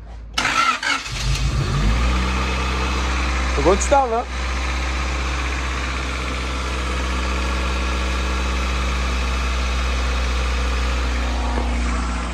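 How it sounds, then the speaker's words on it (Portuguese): A Honda EJ1 with a B16 engine cranks briefly and fires up, revving once before settling into a steady, low, even idle that continues close by; someone speaks briefly just after it catches. "Então vamos dar aqui o primeiro arranque do carro."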